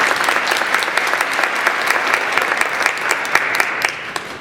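An audience in a theater claps together in dense, steady applause, close and sustained without letup.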